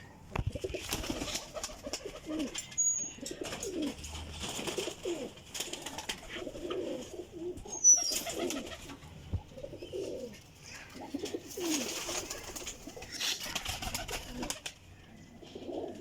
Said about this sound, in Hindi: देसी पिपला वाला कबूतर जी जनाब।